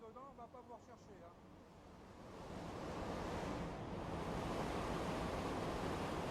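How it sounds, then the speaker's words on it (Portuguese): Rushing sewage water in a Paris sewer channel, driven only by gravity, swelling into a loud, steady torrent after someone speaks briefly at the start. "Um rio rápido de água de esgoto impulsionado apenas pela gravidade."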